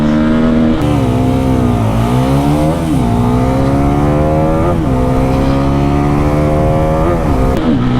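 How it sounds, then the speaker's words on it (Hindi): Bajaj Pulsar NS400z and N250 motorcycles drag race, engines revving hard and loud with rising pitch that drops at each gear shift, repeated several times as the bikes accelerate close by. "चलो भैया चला रहे हैं 400, मैं चला रहा हूँ N250।"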